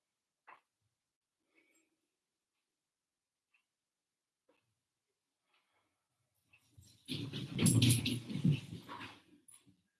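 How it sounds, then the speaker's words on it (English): A small dog scampers around inside a house, a brief close flurry of scuffling and pattering after a long stretch of near silence, with no talking. "Now you might have heard a little noise. We have a little doggy running in the house."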